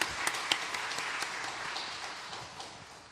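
A church congregation gives a missionary a round of applause during a Sunday service. The clapping is moderate and spread through the room, starting with a few sharper claps and then fading gradually.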